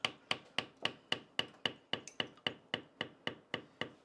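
Leather beveling tool struck repeatedly by a mallet, about fifteen sharp, evenly spaced knocks in a steady rhythm, each with a short ringing decay, close and alone without talk.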